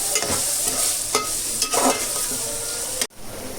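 Onion, ginger-garlic paste and tomato fry for butter pav bhaji, a loud close sizzle broken by several scraping stirs of the spatula, then a sudden brief drop before the frying resumes.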